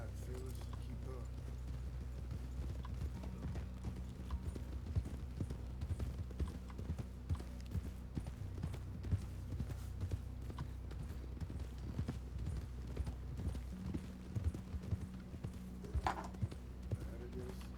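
Horse hooves clip-clop steadily at a walking pace while riding in a Western roleplay video game, a continuous low, rhythmic thudding with occasional creaks and small mechanical rattles.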